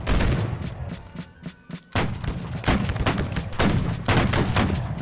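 Soldiers fire muskets at will in the Civil War game Battle Cry of Freedom, a dense, loud crackle of overlapping shots with deeper booms, briefly thinning before resuming.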